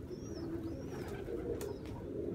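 Pigeons near a dovecote, with soft cooing and a few faint thin calls over a steady outdoor rumble, fairly distant and low in level.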